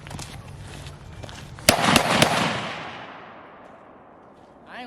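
Three sharp, loud gunshots from a 5.56 rifle fired in quick succession outdoors, each crack trailing into a long fading echo over steady background noise.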